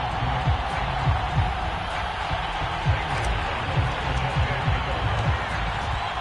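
Steady stadium crowd roar in an EA Sports NFL video game before a matchup against the Chicago Bears, a dense continuous wash of noise with a commentator's voice running over it.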